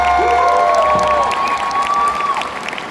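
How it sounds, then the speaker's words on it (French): Audience applause and cheering fill a convention panel hall at Geek Days Lille, a steady dense crowd wash with whistles and shouts over about three seconds, no talk. "Merci de faire un tonnerre d'applaudissements, s'il vous plaît, pour Renoir."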